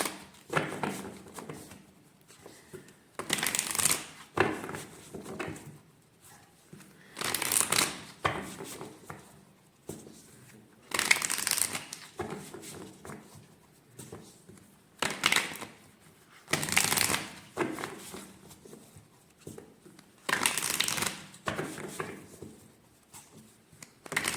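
Tarot cards being shuffled by hand, a run of soft papery riffles and slides in repeated bursts with short pauses between them, close and fairly quiet, with no talking.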